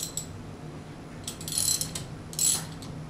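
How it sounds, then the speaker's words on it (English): A 3/8-inch drive ratchet with a 6 mm Allen head drive loosens the outer eight bolts on an Arimitsu 5 Series pump head assembly. Two short bursts of close, quick clicking stand out over a quiet background, with no talk. "Our first step will be to remove the outer 8 bolts"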